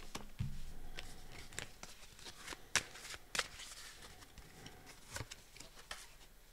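Tarot cards handled and laid out on a table, with soft shuffling, sliding and a few sharp snaps and taps spread across the stretch, close and fairly quiet.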